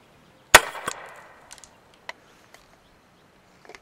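A gas-powered airsoft gun fires a single sharp, loud crack up close, followed by a brief ringing decay and a few faint scattered ticks of BBs landing.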